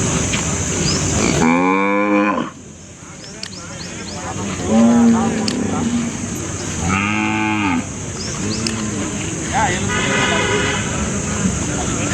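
Native cattle low loudly at a cattle market near Palayakottai, with several long, close moos over a constant crowd din, occasional vehicle horns and people talking.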